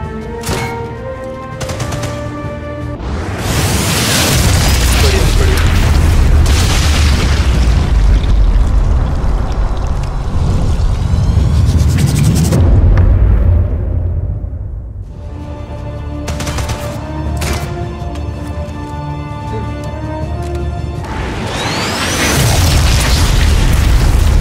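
Grenade blasts in the video game Sniper Elite 5, heavy booming explosions with rumbling tails and debris, mixed with bursts of gunfire, loud and sustained across the scene.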